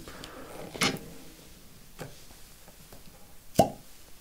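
A real cork pulled from a bottle of Wild Turkey 81 whiskey gives a soft, close pop near the end, after a few faint taps and handling clicks in a quiet room.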